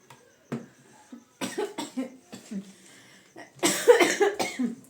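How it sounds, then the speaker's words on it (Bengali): A person coughs in several harsh bursts, growing into a fit of repeated coughs near the end, with a voice mixed in between. "এত কাশিটা হচ্ছে না একদম ভাল লাগছে না"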